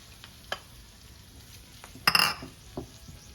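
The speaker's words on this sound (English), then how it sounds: "Let's get this really nice and hot here. Time to add our eggs." Beaten eggs poured into a hot pan with bacon for a frittata, a brief loud burst of sizzling after a couple of light utensil clinks.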